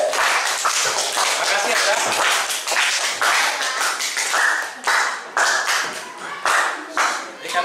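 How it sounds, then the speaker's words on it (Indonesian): A fifth-grade maths class claps for a student, a burst of quick, fairly close hand claps in uneven bursts, with a brief spoken thank-you and talk around it. "Kita kasih tepuk tangan ya untuk Fitra ya"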